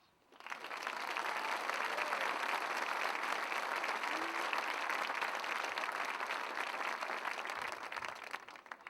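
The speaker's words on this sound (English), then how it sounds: "Applaud, please." Crowd applause at a high school graduation ceremony, swelling in after a brief quiet into a sustained, even roar of many hands clapping, heard from a distance and fairly soft.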